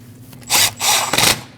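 A power tool runs in three short bursts, snugging the 10mm and 8mm bolts on the air inlet duct of a 2014-2023 Jeep Cherokee during intake manifold replacement; the bursts are close and fairly loud, with no talk.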